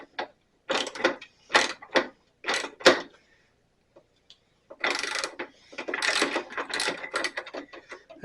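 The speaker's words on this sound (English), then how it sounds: "let me get a socket" Socket ratchet loosening a bolt on a 12 inch Sears-Craftsman bandsaw: close, loud bursts of rapid clicking in several strokes, with short pauses between them and a longer run near the end.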